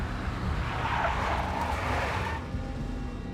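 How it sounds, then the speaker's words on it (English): A big black Mercedes skidding in the Max Payne video game, a broad roaring tire-and-engine rush that swells and then eases off toward the end, with no voices over it. "A big black Mercedes."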